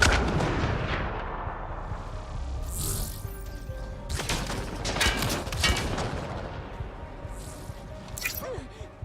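Scattered shots and explosive bursts in the sci-fi action game Mass Effect Andromeda, irregular blasts of varying strength over a busy low rumble of combat, with no voices.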